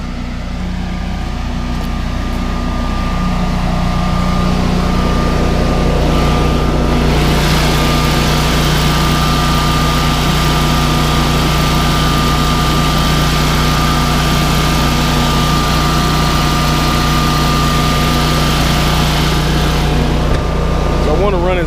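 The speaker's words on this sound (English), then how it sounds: "Got the generator running." A Generac 24kW home standby generator runs steadily with a low, droning engine hum and a constant tonal whine, close and loud for the whole stretch, with a brief shift in the noise partway through.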